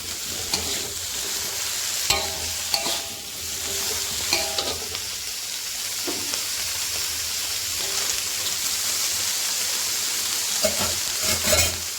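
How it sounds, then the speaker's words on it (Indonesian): Steady sizzling of broccoli and sausage stir-frying in a pan, with intermittent scraping and clinking as ingredients are stirred and tossed; no voices. "Lalu masukkan brokolinya. Oseng-oseng sebentar."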